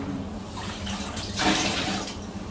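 Milk poured into oatmeal porridge being made for breakfast, a soft continuous liquid pour that swells briefly midway, fairly quiet and close, with no talking.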